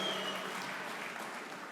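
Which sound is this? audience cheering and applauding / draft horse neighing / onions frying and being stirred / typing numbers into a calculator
audience cheering and applauding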